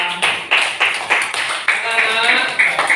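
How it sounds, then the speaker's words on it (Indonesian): A school class claps together in an Indonesian classroom, a series of crisp, evenly spaced group claps in a patterned rhythm, close and moderately loud. "Tepuk tangan untuk kalian semua."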